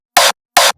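A color kick punch processed with the Chroma plugin sounds as two identical short, loud, bright noisy bursts, evenly spaced and cleanly cut off with silence between them.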